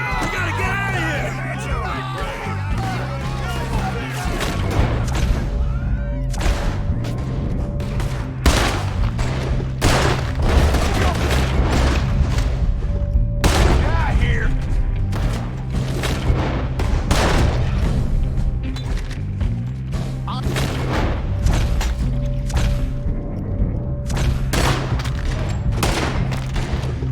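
Repeated gunfire bursts and booms ring out in a video game shootout, loud and irregular, with shouting voices and background music running underneath throughout.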